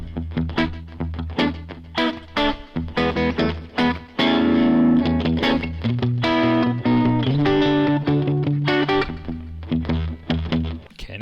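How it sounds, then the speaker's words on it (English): Pitch echo effect from a Zoom Studio 1204 effects unit on a distorted electric guitar, with loud strummed chords and picked notes trailing into pitch-shifted repeats and sustained echoing tails. "next is pitch echo"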